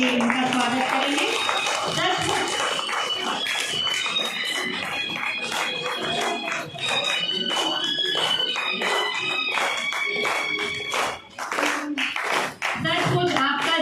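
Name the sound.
audience clapping to welcome a guest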